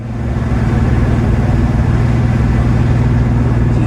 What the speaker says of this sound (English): She's running rough. She's running real rough. It almost sounds like it's misfiring because the carb isn't tuned right.